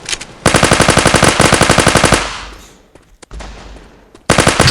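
Submachine gun fire in the MaskGun mobile FPS game: loud, rapid automatic bursts, one long stream followed by a decaying tail, a few isolated shots, then another sharp burst at the end.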